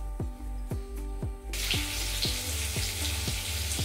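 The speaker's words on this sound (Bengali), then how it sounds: "এবার ডিমটা হালকা করে ভেজে নেব।" A peeled boiled egg fries lightly in a pan. A steady close sizzle starts partway through and runs to the end, with a repeating chirping tone in the background throughout.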